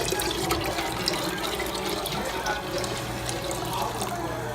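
Hot tea poured into eight cups of water for homemade kombucha, a steady splashing liquid stream with gurgling that runs nearly unbroken, close and moderately loud, with no talk.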